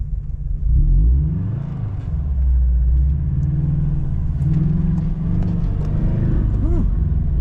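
A modified Toyota FRS engine droning steadily while being driven, a low rumbling hum that swells slightly with throttle and stays loud throughout, with faint voices over it near the end.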